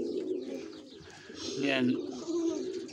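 Pigeons in a pigeon tower coo in low rolling tones, heard near and moderately loud, with a brief brighter chirp midway and a voice speaking over the birds.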